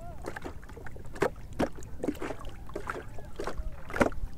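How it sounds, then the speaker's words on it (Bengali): A small wooden boat pushes off and glides across a wetland lake at sunrise in Sunamganj, Bangladesh, with steady paddle splashes and water lapping close by over light background noise. "আমরা নৌকা ভাসিয়েছি"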